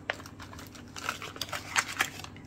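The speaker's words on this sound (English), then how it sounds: "pick up my little plastic bag there" A small plastic bag picked up and handled at a crafting table, giving close, quiet crinkles and rustles in short irregular bursts.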